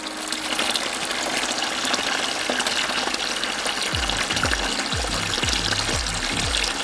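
Water siphoned out of an aquarium rushes and gushes steadily and close up, with a series of gurgling, bubbling pulses toward the end.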